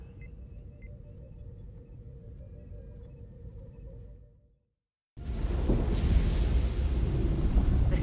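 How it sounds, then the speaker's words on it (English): Storm in Star Trek: Resurgence: a low, muffled rumble with faint tones fades to silence, then a loud, dense roaring rush of wind and rumble bursts in and holds. "The storm is getting worse."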